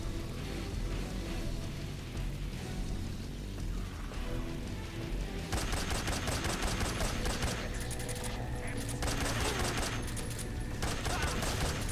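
SVD sniper rifle gunfire in the video game Metal Gear Solid 3: a thin, crackling spatter of shots that turns into dense, rapid bursts partway through over a low game ambience, with no voices.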